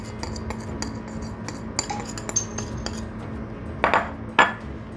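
A spoon of cornflour goes into a bowl for a chocolate mousse cake, with light metal-on-bowl clinks and taps, then two sharper clinks near the end over a low kitchen hum.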